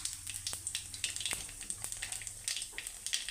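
Black cumin seeds crackle in hot oil in a wok as a faint, close sizzle punctuated by small irregular pops, with no talking.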